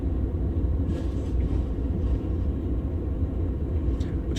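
A Class 47 diesel locomotive in Train Sim World runs along the West Somerset Railway near Dunster at low speed, giving a steady, heavy engine rumble with no talk.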